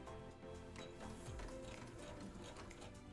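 Sewing machine running steadily through fabric at the start of a narrow gathered hem, reversing for a back stitch; a continuous close mechanical whir and clatter with no voices.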